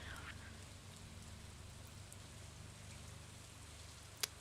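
Steady rain falling in the Stardew Valley video game, a soft, even hiss of drops holding throughout at low level, with a single brief click near the end.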